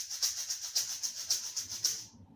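A plastic tub shaker filled with rice is shaken in a steady rhythm, giving about eight soft, gritty swishes up close at low volume before it stops into silence.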